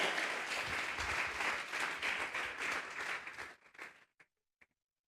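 A church congregation at a Sunday service bursts into sustained, full-room clapping that holds steady, then cuts off abruptly near the end, trailing a couple of last isolated claps into silence.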